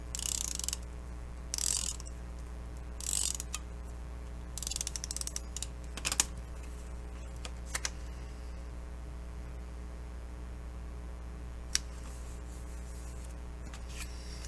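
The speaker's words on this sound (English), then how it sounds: "I'm going to go ahead and use tape on this" Tape pulled from a roll and pressed onto trifold journal card pieces, with a few quick ripping tears early on, then sparse faint rubbing and clicks over a low steady hum.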